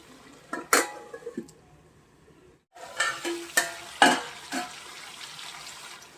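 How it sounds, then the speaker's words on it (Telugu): Crab curry simmers in oil in a pot, with soft sizzling under a run of sharp metallic clinks and scrapes from stirring, a short hush partway through, then more clattering nearby. "ఇలా నూనెలో కొంచెంసేపు మగ్గనిద్దాం"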